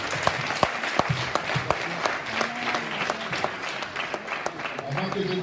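A crowd at a church service claps to acclaim Jesus, sharp individual claps standing out at first, then merging into steady, continuous applause, while voices carry on underneath.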